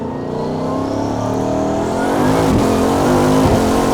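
A Bugatti Bolide race car accelerates hard in a rolling launch straight out of the pits, its loud, close engine climbing steadily in pitch with a continuous rising roar and no speech.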